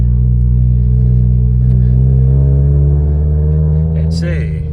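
A car pulling away slowly at a dealer auction, its engine droning steadily with a low rumble as the unusual clutch engages late, the pitch creeping up before easing off near the end.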